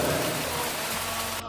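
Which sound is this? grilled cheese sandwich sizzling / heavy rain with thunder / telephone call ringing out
heavy rain with thunder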